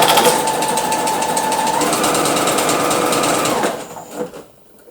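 A domestic knitting machine runs with a continuous loud mechanical whir and clatter as the carriage passes, then slows and stops near the end; no one speaks.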